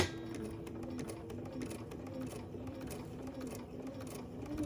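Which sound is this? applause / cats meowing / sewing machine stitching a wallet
sewing machine stitching a wallet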